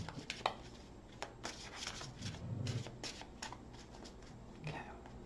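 Soft, quiet shuffling of tarot cards in irregular bursts of riffles and taps, close by, with faint murmuring in the background.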